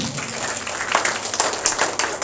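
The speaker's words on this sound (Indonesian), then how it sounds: "Tepuk tangan buat Tuhan." A church congregation at a Sunday morning worship service claps steadily, a continuous crowd of hands with a few sharper individual claps standing out.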